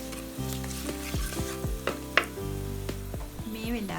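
Chili and turmeric powder sizzle in a pan for a fish curry while a spoon stirs them, with repeated scraping strokes and clinks over a steady close fry.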